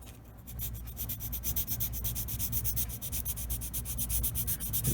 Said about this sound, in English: We'll go ahead and sand that off too.